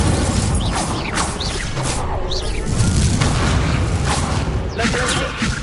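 A fire spell cast in the video game Hogwarts Legacy, heard as booming, whooshing magical bursts over a dense, loud layer of combat sound effects and game music.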